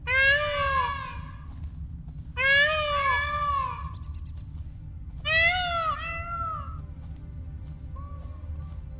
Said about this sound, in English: It sounds like they meowing.